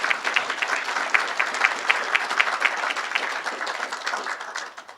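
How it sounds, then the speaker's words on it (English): Steady applause from an audience at an Alberta Order of Excellence award ceremony, a dense continuous patter of many hands clapping, even and fairly close, tapering slightly at the end. "It's okay, you can applaud."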